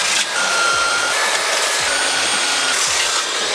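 A wooden plyo box is sanded with a power sander, producing a loud, steady, close abrasive whir with slight changes in pressure and no talking.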